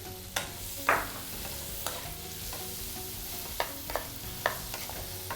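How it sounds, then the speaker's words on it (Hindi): Onions fry in butter in a kadhai with a steady close sizzle. Sharp clinks and scrapes of a spoon stirring against the metal come at irregular moments, and no one speaks. "कढ़ाई में मैंने 1 चम्मच बटर गरम कर लिया है, इसमें हम प्याज डाल देंगे।"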